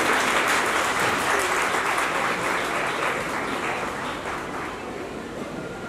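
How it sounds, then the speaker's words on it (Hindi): An audience claps steadily at a school annual day celebration, a dense, continuous wash of many hands that stays loud throughout and eases only slightly toward the end, with no talking. "स्पेशल डे में तालियां तो बजती है ज्यादा"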